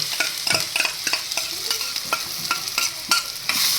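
Garlic sizzling in hot ghee, with close, busy crackling under a steady rhythm of spoon scrapes as it is stirred around the pan.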